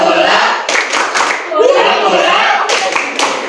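A group of children claps hands loudly together in a classroom clapping chant, amid excited chatter and chanting voices, sounding close and lively.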